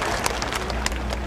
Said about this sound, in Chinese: 罗廷伟，掌声鼓励一下好不好